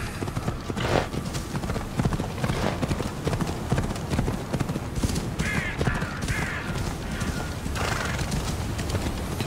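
Rapid clip-clop of horse hooves from Assassin's Creed Odyssey, steady and close, with a horse whinnying and a few crow caws over the trot.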